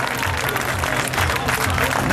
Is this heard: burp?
no